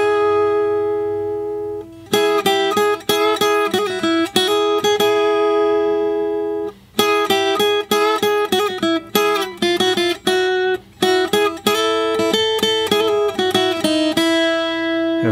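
An electric guitar plays the lead solo from a song over the verse chords, a bright run of quick, clearly picked single notes in phrases with brief pauses, alone and close.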